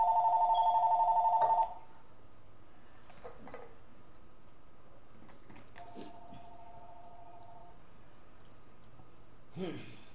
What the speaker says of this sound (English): If it's somebody important, they don't have to call their house phone.